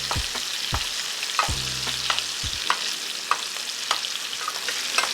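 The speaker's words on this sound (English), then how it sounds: "take your spoon, and just baste that steak in that garlic and herb butter" Steak basted with garlic and herb butter in a tilted skillet: a loud, steady sizzle and frying hiss with the spoon scraping and tapping against the pan now and then, close up, no voices.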